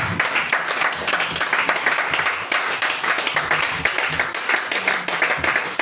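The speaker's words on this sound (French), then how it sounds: "si tu es content, acclame le Seigneur Jésus" A church congregation at an all-night prayer vigil claps steadily and cheers, dense rhythmic applause filling the room loudly from start to finish.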